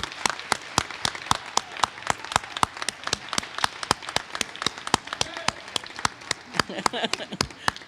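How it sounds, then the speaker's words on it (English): Applause at an adult education graduation ceremony for the graduates' friends and family. One nearby pair of hands claps loudly and regularly over a wider crowd clapping in the background. "we want to give you a round of applause as well"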